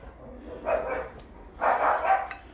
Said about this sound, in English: there go the dogs barking at the garbage man.